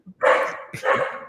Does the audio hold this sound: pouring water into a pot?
no